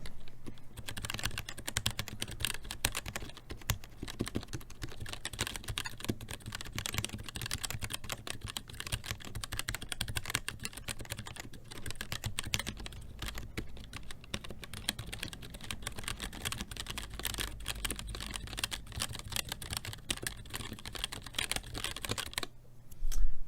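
Steady typing on a mechanical keyboard fitted with Gateron Red switches and O-rings under the keycaps, a continuous run of soft, dampened clacks close to the microphone for over twenty seconds, with no voices.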